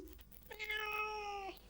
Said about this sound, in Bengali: বিড়াল মিউমিউ করছে,